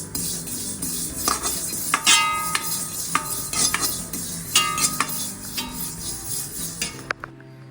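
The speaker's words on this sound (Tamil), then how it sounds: "அடுப்பில் இரும்பு கடாய் வைத்து இரும்பு கடாயில் வந்தனும் எள்ளை போடணும். எள் லேசாக பொரியிற வரையும் வறுக்கணும்." Sesame seeds dry-roasting in an iron kadai on a stove for a Karthigai festival snack, stirred with a metal spatula that scrapes and clinks against the pan in bursts over a faint steady crackle, close and with no voices.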